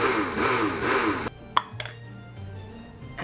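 An electric mixer whirs loudly as it blends sugar for Danish checkerboard cookie dough, then cuts off, leaving a few light clinks and taps of the bowl.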